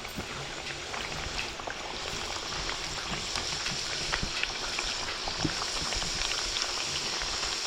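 Mutton vadas, thick rounds of dough with a hole in the middle, frying in oil on a village wood stove, a steady bubbling crackle with scattered pops, close and continuous throughout.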